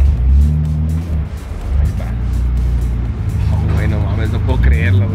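A drift car called the Dreamer, back on its rebuilt engine and running for the first time, idles and revs loudly and steadily up close while excited voices talk over it.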